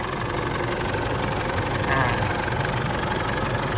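A 2013 Isuzu D-Max 2.5 diesel pickup engine idles steadily and loudly up close, with an even, rumbling drone and no change in pace throughout.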